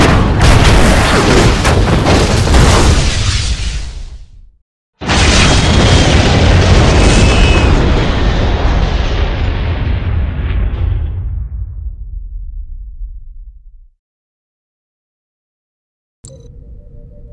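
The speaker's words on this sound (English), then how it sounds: "The ship has been destroyed." A starship explodes in Star Trek: Bridge Commander: a loud booming blast cuts off abruptly, then a second huge explosion rumbles and slowly fades into silence, followed by a faint electronic tone.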